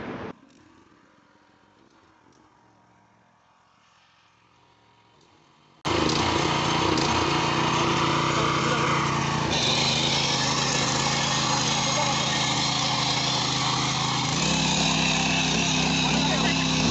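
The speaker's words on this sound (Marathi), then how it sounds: "मशीन बस स्टार्ट करतो आता मी बघा" A small petrol rotavator tiller engine starts abruptly partway through and runs loud and steady, a constant buzzing drone that continues to the end after a quieter stretch.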